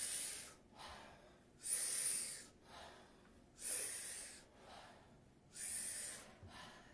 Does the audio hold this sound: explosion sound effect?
no